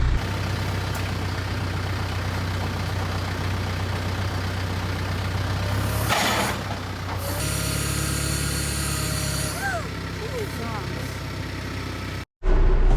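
A tractor engine strains to lift a buried fire pit, giving a loud, steady rumble that shifts in tone partway through and then cuts off abruptly near the end.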